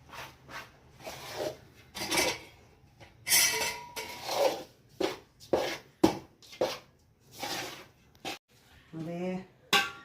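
A thick peanut sweet mixture is stirred and scraped in a pan off the heat, giving repeated short rasping scrapes in an uneven rhythm with brief pauses, and a voice speaks faintly near the end.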